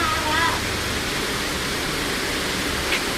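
Water rushing at Srisailam, a loud, dense, continuous roar filling the whole clip, with a brief voice faintly audible at the start.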